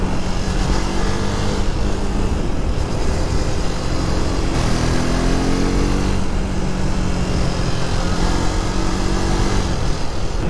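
A KTM RC 390 motorcycle cruises on a long ride toward Mahabaleshwar, its engine droning loudly and steadily under heavy wind rush, with gentle pitch shifts as the throttle changes.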